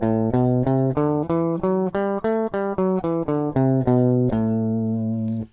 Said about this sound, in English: if we start that scale on the second scale degree, being A in this case, we end up in Dorian mode